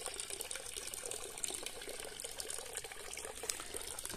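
Water runs steadily from a hose into an aquaponics grow bed, a continuous soft splashing gush at moderate distance with no voices.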